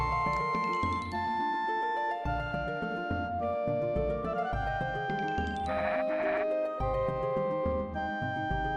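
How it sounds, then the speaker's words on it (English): Repeated goat-like bleats over a bouncy synthesized melody from the SNES game Treasure Hunter G, the cries recurring rhythmically throughout at steady volume. "It's a lot of goats though."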